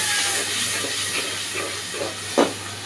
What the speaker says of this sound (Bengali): এবার একটু পানি দিয়ে দিই, ভালো করে মশলাটা কষিয়ে নিই